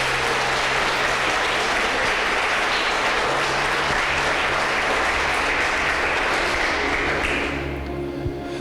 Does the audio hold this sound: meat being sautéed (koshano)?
no